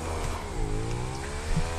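A motorcycle engine in GTA 5 Online drones and revs steadily as it approaches, a continuous buzzing hum with pitch shifting slightly, fairly loud with no talk.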